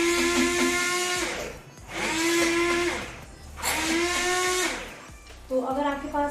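A hand blender whips cream for making bilona ghee in a home kitchen, running in three long bursts with short pauses and a fourth burst starting near the end, its loud whirring motor clear, with faint talk in the gaps.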